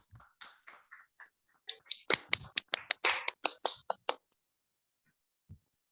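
A short burst of uneven claps in an online class session, about a dozen sharp hand claps that bunch together and then trail off after a few brief spoken syllables.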